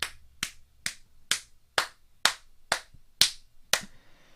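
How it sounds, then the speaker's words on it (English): Nine crisp hand claps at a steady, even pace, close and clear against silence. "Round of applause."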